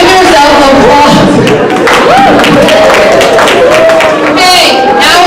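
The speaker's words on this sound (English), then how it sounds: "So, give yourself applause." An audience at the 2018 Spring Festival Gala breaking into applause, loud close clapping mixed with excited crowd voices and cheering that swell and hold for several seconds.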